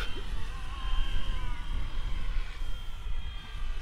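FLY WING FW450L-V3 RC helicopter flying inverted, a steady high whine with a constant tonal hum from its motor and rotors, close and fairly loud throughout.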